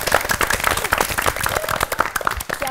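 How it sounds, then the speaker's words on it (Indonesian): A studio audience on a TVRI television quiz show claps energetically, a close, loud and dense spell of applause with individual hand claps audible and no talk. "Tepuk tangan dulu."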